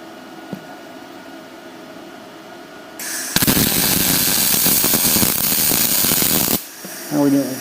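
Arc welding on the end of a steel arbor press stand: a loud, steady crackling hiss starts abruptly, holds for about three seconds, then cuts off, with quiet shop ambience before and after.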